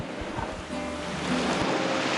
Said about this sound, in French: Il suffit d'écouter le son de ces vagues pour ressentir plein d'émotions.